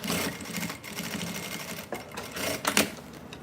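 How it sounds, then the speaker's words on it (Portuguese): A sewing machine runs steadily while stitching the edge of a cosmetic bag, a close continuous mechanical whir lasting about three seconds with a few brief pauses and a louder burst near the end. "é só eu dar mais uma costuradinha aqui"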